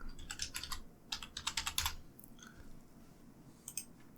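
Fingers typing on a computer keyboard in quick bursts of key clicks, close and fairly quiet, with short pauses between runs and no voices.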